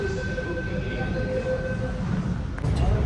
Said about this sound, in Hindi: ये है जयपुर मेट्रो।